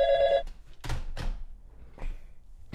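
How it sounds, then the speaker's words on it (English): A telephone bell rings briefly and clearly at the start, followed by thuds and overlapping voices of people talking in a studio setting. "Phone's ringing."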